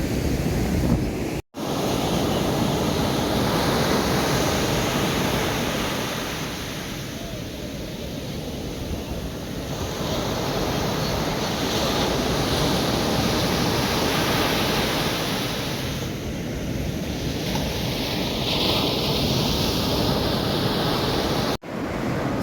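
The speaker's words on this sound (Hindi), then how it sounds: "जानबूझ के मैंने लहरों की रियल आवाज़ ही रखी" Steady roar of ocean surf on a Goa beach, waves breaking and washing in, swelling and easing in slow surges, loud and close with wind rushing across the microphone.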